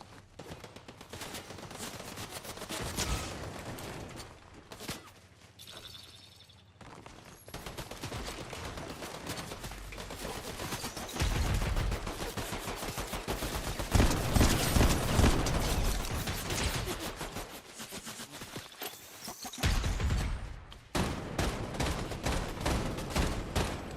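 Gunfire in the game Fortnite, a long stretch of rapid, rattling shots and mechanical clatter, steady and moderately loud with a few brief pauses.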